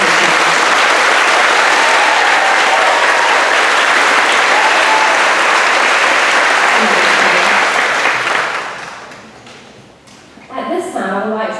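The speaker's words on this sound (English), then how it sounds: "Let's give them a round of applause." Sustained applause from a large audience at a high school graduation ceremony fills the room for about eight seconds, then fades out, followed by a speaker beginning to talk.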